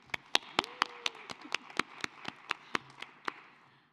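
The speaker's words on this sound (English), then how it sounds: "Can we give them one more round of applause?" A short, sparse round of clapping for facilitators at a school board meeting, a dozen or so distinct claps in an uneven rhythm, fairly quiet and fading toward the end.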